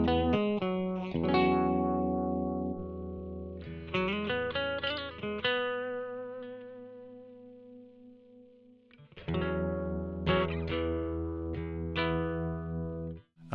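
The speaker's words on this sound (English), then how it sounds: "So let's put some tremolo on there. And we can just sort of demo that by playing through the amp." Electric guitar played through a Blackstar ID Core V3 amp with a pulsing tremolo on sustained chords, bursts of strummed notes separated by ringing, wavering holds; loud and close.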